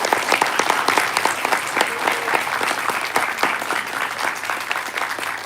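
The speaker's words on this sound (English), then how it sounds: "Let's give them one more round of applause." Audience at a 2026 lieutenant governor candidate forum applauds in a continuous, loud, dense roll of clapping that holds steady throughout.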